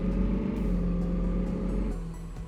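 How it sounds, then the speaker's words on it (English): Cadillac Blackwing engine in American Truck Simulator, a steady low droning hum with a mild rise and fall, fairly quiet and continuous, easing off slightly near the end with no talk over it. "Yeah, this Blackwing sounds great,"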